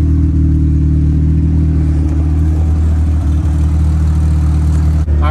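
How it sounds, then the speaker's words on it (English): A Mazda Miata fitted with modded drift knuckles drives along, its engine a steady, loud mid-pitched drone with a faint rev change near the end and no talking. "I'm just gonna go take it for a little drive."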